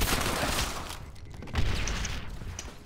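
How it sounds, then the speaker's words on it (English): Mortar blasts rumble and boom in a World at War multiplayer battle set in Berlin, with a dense opening barrage, a brief lull, then another heavy low impact and scattered distant pops. "These freaking mortars, dude."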